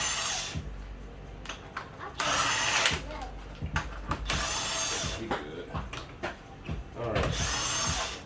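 Power tool bursts backing lug nuts off the front wheel of a Dodge Avenger 2.4L during a brake pad job, several short whirring runs separated by pauses and clanks, close and fairly loud.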